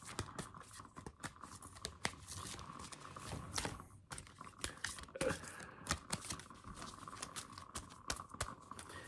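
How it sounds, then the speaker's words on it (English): Close, irregular papery flicks and riffles of an oracle card deck being shuffled, with soft taps and rustles and no talking. "I'm horrible at shuffling these cards"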